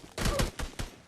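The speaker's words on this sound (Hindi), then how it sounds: "और हम शॉटगन से पेलते Enemy! हैं" Shotgun blasts in the mobile shooter game Rush, three or four loud close booming shots in quick succession with no talking.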